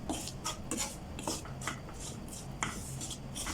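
Scraping and stirring of a garlic-and-oil mixture in a home-kitchen pan, a steady run of gritty scrapes and light metallic taps close by, repeating every half second or so, with no voices.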